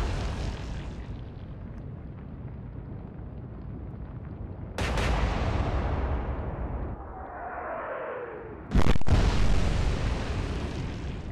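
Heavy naval gunfire from the battleship Warspite in the Atlantic Fleet game, with two sharp booming salvos and rolling rumble against a steady droning sea-battle background.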